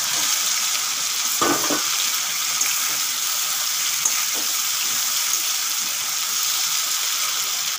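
Steady, loud frying sizzle of prawns with potatoes and pumpkin in a pan, with a brief thump as pieces drop in; continuous hiss throughout and no talking.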